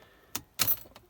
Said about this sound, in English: you just need to put in your keys